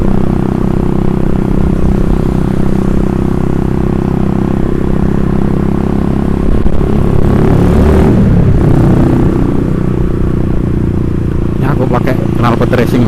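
A Yamaha Byson motorcycle fitted with a racing exhaust runs steadily with a loud, deep, continuous engine drone and a few sharper bursts near the end, close by, with no talking.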